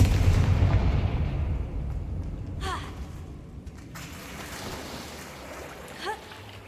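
A Confringo fire spell from Hogwarts Legacy blasts with a deep booming rumble that fades away, followed by a few brief, sharp bursts with voice-like cries.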